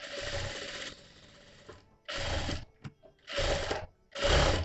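Short, loud bursts from a sewing machine stitching a princess cut blouse, four separate runs of close, buzzing stitching with quiet gaps and small clicks between them.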